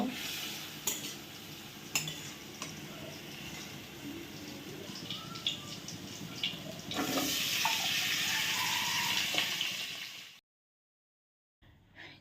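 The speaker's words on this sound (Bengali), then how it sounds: "এখানে হচ্ছে মশলাটা কষাচ্ছি আমি" Spice paste is stirred and fried in a pan for a fish dish, giving steady sizzling with occasional utensil scrapes and taps against the pan, then a louder burst of frying before it drops to silence.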